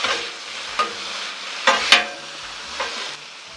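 Green beans frying on a Blackstone griddle as red wine vinegar is added, a continuous close sizzle with several sharp crackling spurts and spatula taps, no voices.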